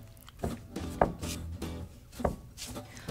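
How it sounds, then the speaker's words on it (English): A yeast mixture is stirred into flour for Korean hotteok dough, giving close, uneven scraping and thudding strokes in a loose rhythm, several spaced knocks of spoon against bowl over steady handling noise. "Now I'll just add my yeast mixture into the flour and then just stir it until everything's combined"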